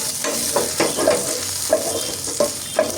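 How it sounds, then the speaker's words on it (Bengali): Chicken pieces sizzle in a pan of hot oil as they are turned and fried until reddish-brown, with steady frying hiss broken by about six soft scraping stirs at a regular pace, close by and with no talk. "এভাবে উল্টে পাল্টে চিকেনগুলোকে ভেজে তুলে নিব"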